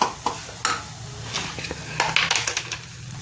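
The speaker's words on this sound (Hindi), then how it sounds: "ये मिक्स करके इसको हम 5 मिनट के लिए भूनेंगे" Peas and potatoes with spices are stirred in a pan, with a soft sizzle under repeated scraping clicks of a utensil against the metal, close and moderately quiet.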